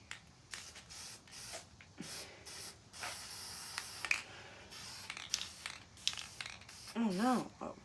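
Bursts of hissing aerosol primer spray come in short pulses between quiet gaps, coating the hull of a 1/350 scale model ship, with a person talking softly nearby and a brief whine near the end.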